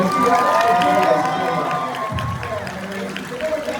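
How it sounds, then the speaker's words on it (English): A comic convention crowd cheers and shouts after being asked for a round of applause, a dense wash of voices at a distance, with scattered clapping and some talking mixed in. "You guys give me a huge round of applause, everybody"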